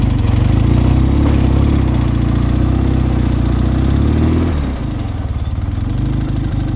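A 1973 Chang Jiang motorcycle engine runs in first gear with a loud, close, steady throbbing drone that drops in pitch and eases slightly near the end.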